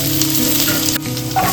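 Ginger drops into hot oil and crackles into a loud, dense sizzle that stays constant and close throughout, with a faint scrape near the end.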